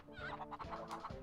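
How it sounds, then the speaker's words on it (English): Chickens in the Crash Bandicoot 3 video game cluck in a short, quiet burst of rapid clucks. "There's no point in killing the chickens."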